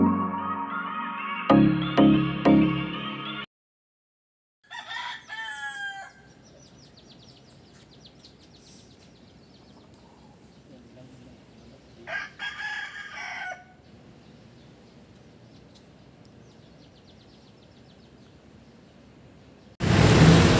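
Chickens and a rooster at a market. Loud cackling and clucking open the clip, followed by a short silence, then two rooster crows at a moderate distance over quiet background noise, and a sudden loud burst at the very end.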